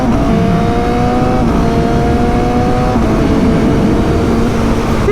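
Suzuki GSX-S 750 motorcycle engine accelerating under load, a loud sustained roar whose pitch climbs, drops at a gear change around one and a half and three seconds, then climbs again, heard close from the rider's position.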